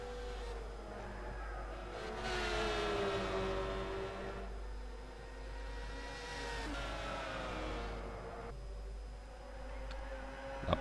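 Racing-game cars, including two green Subaru BRZs in a GT300 endurance race at Fuji, whine steadily with rising and falling engine tones as they overtake each other, a continuous moderate drone throughout.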